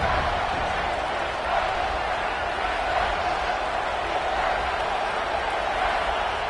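A football stadium crowd roars during a third-down red zone stand, making a constant dense wash of noise with no break, with murmured commentary beneath it.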